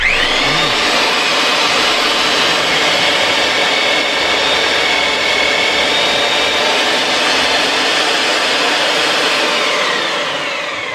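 Compressed air blasting out a hole and clearing the gullets during hydro dam restoration work, a loud, steady, close hiss that holds for about eleven seconds and fades slightly at the end, with no talking.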